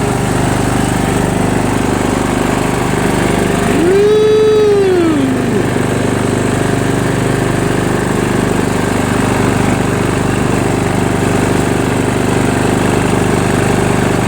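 A Toro Wheel Horse 1238XL hydrostatic lawn tractor with a Briggs & Stratton Vanguard engine runs loud and close in a steady, unbroken drone, and a brief rising-then-falling whine cuts through around the middle.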